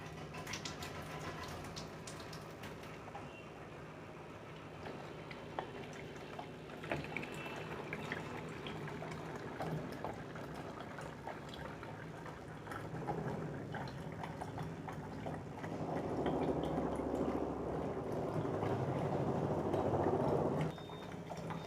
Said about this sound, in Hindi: इस मशीन से दूसरे डिब्बे में पानी भर रहे हैं